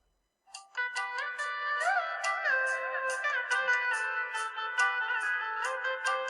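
A phone rings with an incoming call, a repeating electronic ringtone melody playing continuously at moderate volume with no voices over it.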